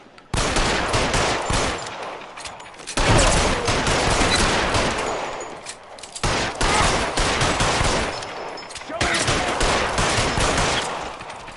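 Loud, sustained gunfire fills a game shootout, dense volleys and repeated shots nearly continuous with brief gaps, no talk.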